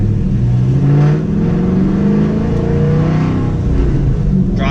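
Cammed Chevrolet SS Camaro V8 rumbling steadily while driving at normal pace, a loud continuous low drone with a slight throttle swell partway through, heard alone without voices.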